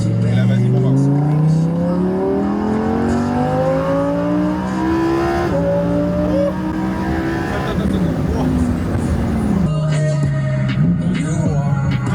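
A Lamborghini accelerating hard in Marbella, its engine loud and close, pitch climbing in long steady pulls with a shift partway through and another surge near the end.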